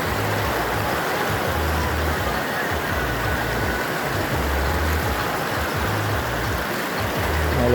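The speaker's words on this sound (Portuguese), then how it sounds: "A água passa bem assim." A waterfall-fed stream rushes over rocks in a loud, close, continuous roar of flowing water that holds steady throughout, with no other sounds standing out.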